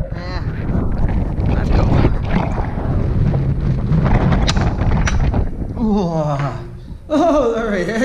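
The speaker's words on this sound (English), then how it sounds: "Get in out of the wind." Strong wind on an exposed spot on Scalpay buffets the microphone in loud, continuous gusts that dip briefly near the end, with a voice speaking over it.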